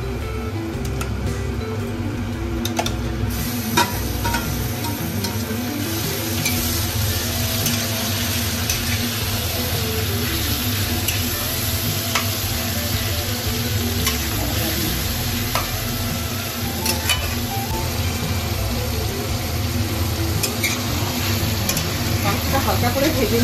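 Marinated chicken fries for chicken kosha in a pan with browned onions, giving a continuous loud sizzle with frequent ticks, pops and scraping stirs throughout.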